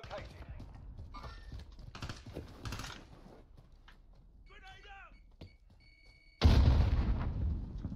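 A grenade detonating in a video game shooter, a sudden loud blast near the end that follows quiet clicking and faint scattered sounds, with people talking during the earlier part.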